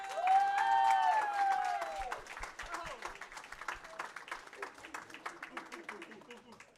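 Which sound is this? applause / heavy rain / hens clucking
applause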